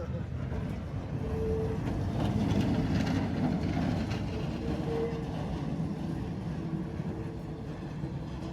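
A tram rumbles past nearby during a tram parade in Poznań, Poland, with a low, steady rolling drone and a few faint squeals from the rails, heavy throughout.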